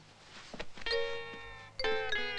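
A doorbell chimes twice in a room, a bright ding-dong tone ringing out clearly after a couple of soft thumps, then sounding again and sustaining to the end.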